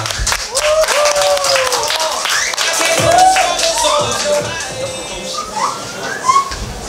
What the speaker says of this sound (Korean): 여러분들 한번 더큰 박수 부탁드립니다.